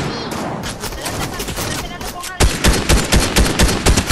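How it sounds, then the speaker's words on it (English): Loud, rapid gunfire in the video game Fortnite, dense bursts of shots that keep going, growing sharper and more clipped in the second half, with excited voices talking over it. "He's already shooting."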